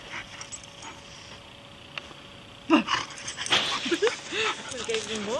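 A German Shepherd dog whimpers and yips in short, rising and falling cries, growing louder after a quieter start, set against a steady background hum.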